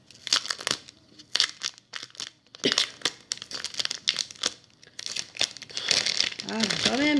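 Crinkly plastic packaging rustles and crackles in bursts as someone struggles to open it, close by, with some talk mixed in.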